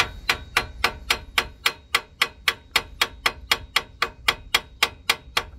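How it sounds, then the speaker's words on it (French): A hammer taps gently on a seized suspension bolt of a Renault Megane 3 while replacing the wheel control arms, a steady, evenly spaced run of about twenty sharp metallic taps, close and alone. "Et on tape doucement au marteau là."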